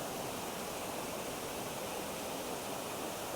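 Steady broadband rush of a waterfall flowing, continuous and even throughout, with no voices.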